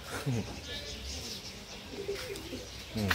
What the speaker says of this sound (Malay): Ni burung merpati. Tapi merpati ni macam spesies special sikit lah.